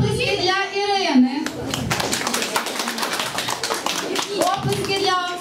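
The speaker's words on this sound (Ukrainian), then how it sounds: "оплески для Ірини" A room full of spectators at a Mother's Day contest breaks into steady, dense clapping that runs throughout. Children's voices and cheering sound over the applause at the start and again near the end.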